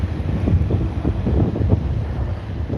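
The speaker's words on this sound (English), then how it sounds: "I hope you guys can hear me over the wind." Strong wind buffeting an unshielded phone microphone outdoors in Cassadaga, Florida, a continuous loud low rumble with gusty surges and no speech.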